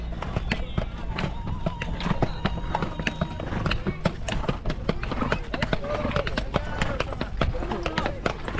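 Hooves of a carriage horse clip-clop steadily near the Egyptian pyramids, a dense run of sharp close clopping that continues throughout under voices talking.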